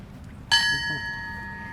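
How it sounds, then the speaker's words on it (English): A single bell struck once at an outdoor Veterans Day ceremony in St. Augustine, a bright clear tone ringing out and slowly fading over faint crowd murmur. "Ring the bell."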